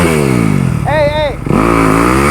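A dirt bike engine running loud and close, a buzzing two-stroke drone that dips and surges with revs, while a person shouts over it.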